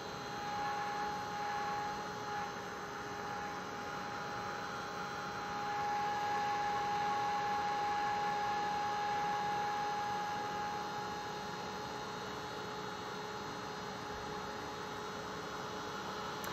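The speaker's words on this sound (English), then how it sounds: "I'm going to just run my heat gun over the image like so." A heat gun blowing hot air over embossing powder on stamped card flowers gives a steady, even whirring hiss with a faint constant hum, running unbroken throughout.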